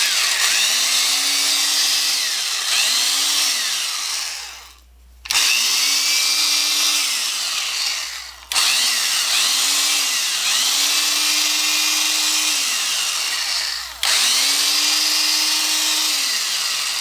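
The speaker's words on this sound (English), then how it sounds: "It's a nice little drill motor." A small 1/4-inch electric drill motor, in good shape, running in several long bursts with a steady high whine, briefly dropping and spinning back up between runs, close and loud.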